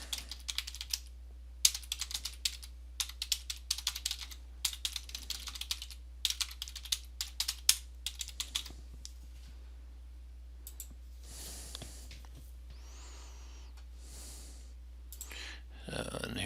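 Rapid bursts of key taps on a computer keyboard as a caption is typed, close and crisp, arriving in clustered runs with short pauses, then a few scattered clicks and faint breathing near the end.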